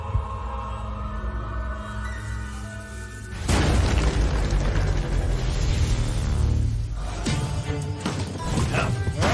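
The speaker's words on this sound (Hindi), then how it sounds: "धमाका।" An explosion in a Hindi-dubbed 3D anime hits abruptly after a quieter, tonal passage. A loud, sustained roaring blast with crashing debris fades into a rumbling tail.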